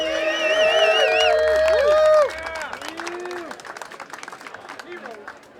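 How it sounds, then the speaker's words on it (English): An audience at a board builders hall of fame ceremony breaks into dense applause and cheers that fade after about two seconds. A voice is heard over the crowd. "One last applause before Lucidium."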